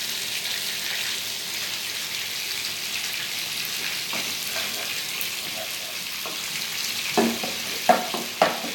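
Onions sizzle steadily in oil in a pan for a mutton kofta curry base, with a few sharper spatters and utensil clinks near the end and no voices.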